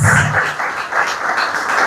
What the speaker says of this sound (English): A round of applause, man.